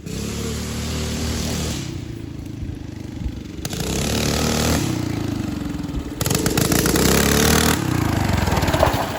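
A Coleman BT200X minibike's small single-cylinder engine runs nearby, idling and revving in surges, with the throttle repeatedly opened and eased off, loud and buzzy.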